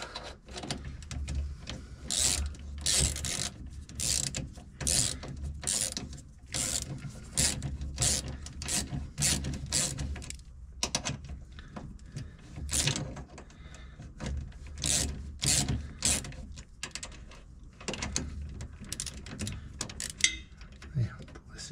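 A ratchet tightens bolts on a Porsche 911 in repeated short, crisp clicking bursts with pauses between strokes, fairly faint, alongside occasional metallic handling noises.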